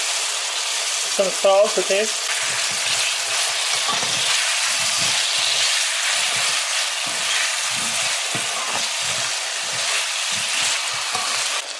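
Potatoes fry in a pan over medium heat with a steady, loud sizzle and hiss throughout, the crackle continuing under a voice speaking briefly near the start.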